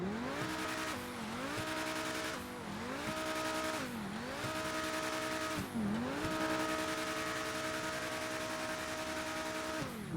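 A Progen T20 hypercar engine in GTA 5 Online hums loudly and steadily, its pitch repeatedly swelling and dipping in smooth waves over about ten seconds, with no talk.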